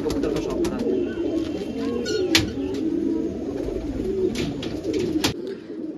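A male bedaa pigeon coos repeatedly and close, in soft rolling phrases, with sharp clicks and rustles scattered through, and no voices.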